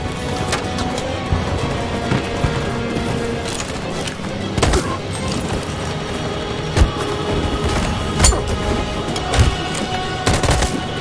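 Dense gunfire in the video game Detroit: Become Human: a continuous rattle of automatic fire with sharper individual shots cracking through at intervals, loud and close throughout.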